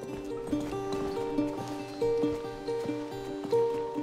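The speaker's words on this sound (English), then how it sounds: "That's a lovely horse." Horse in the video game A Plague Tale: Requiem, with soft hoof clops at a steady walking pace over a sustained tonal music bed, moderately loud and with no talking.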